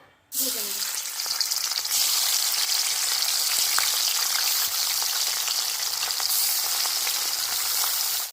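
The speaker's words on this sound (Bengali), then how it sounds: "সব মাছগুলো দেখুন আমার ভাজা হয়ে গেছে" Pieces of fish coated in salt and turmeric fry in hot mustard oil with a loud, steady sizzle that keeps going without a break and has no talking over it.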